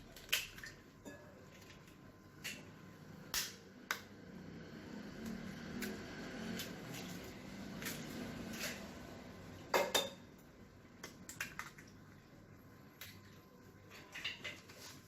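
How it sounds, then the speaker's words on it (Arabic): Three eggs are beaten in a bowl: clinking taps and scraping of a utensil against the dish come in irregular bursts, with a cluster of sharper knocks later on, close and moderately quiet. "عندي هنايا 3 ديال البيضات، غادي نهرسوهم هنا"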